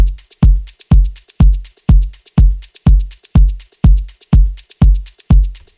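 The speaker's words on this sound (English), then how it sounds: "So both shakers and the kick sound like this together." Two shakers and a kick drum play together in an afro house track, with a steady four-on-the-floor thumping kick and crisp rhythmic shaker hits, loud and evenly spaced.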